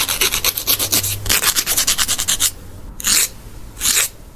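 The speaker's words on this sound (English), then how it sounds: "The sound of someone filing their nails." A nail file rasps against fingernails in quick rhythmic back-and-forth strokes, then a pause followed by a couple of slower, separate strokes, heard close and alone.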